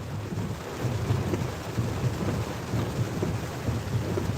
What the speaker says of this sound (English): it is raining a little bit